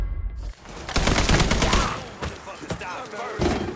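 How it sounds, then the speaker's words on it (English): A crime-game firefight in Mafia III, with sharp bursts of gunfire in quick clusters, loud at first and then in scattered volleys, with faint voices mixed in. "Shoot some shit up."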